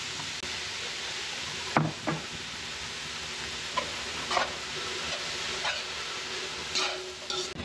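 Shredded cabbage and other vegetables with a spoonful of soy sauce sauté for lumpiang sariwa, making a soft continuous sizzle broken by a few sharp scrapes and knocks of a utensil against the pan.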